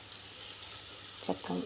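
Onion, garlic, ginger and green chilli sizzle softly in a pan for chicken roast while being stirred, with a couple of brief scraping stir sounds near the end.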